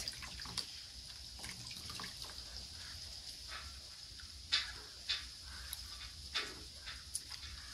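Naturally dyed fabric being rinsed in water during an Ancestral Puebloan dye demonstration, with quiet splashes and drips that come in irregular soft bursts against a faint background.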